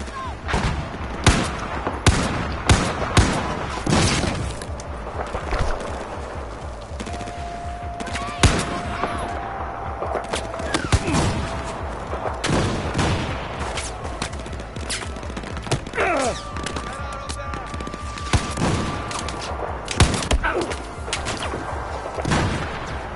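G36 assault rifle fire in a video game, loud sharp bursts and single shots scattered across the whole stretch, with booming impacts and bits of background noise between them.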